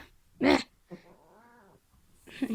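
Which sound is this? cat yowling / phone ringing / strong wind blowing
cat yowling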